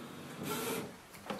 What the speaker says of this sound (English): So here we can see instantly it has started the printing